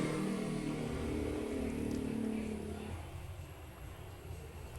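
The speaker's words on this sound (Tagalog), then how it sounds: "Maraming motor na dumadaan." Several motorcycles pass by on a road, a steady close engine drone with harmonic hum for about three seconds that then fades as the riders move away.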